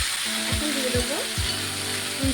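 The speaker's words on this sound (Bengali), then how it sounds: "কুমড়োটাকে দিয়েও এক দু মিনিট ভেজে নেবো সবজিগুলোকে" Jackfruit seeds, pumpkin and potato fry in oil with a steady close sizzle, while a few low tonal knocks and a gliding squeak-like sound rise above the crackle.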